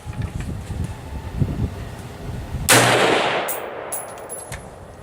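An AR-15 rifle fires a single loud shot with a handloaded round during an outdoor plinking function test; the sharp blast rings out and fades after a stretch of faint wind and handling rustle.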